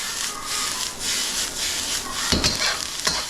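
Mushrooms stir-frying in a pan with pork for mushu pork, a steady close sizzle broken by a few scraping stirs near the end, no talking.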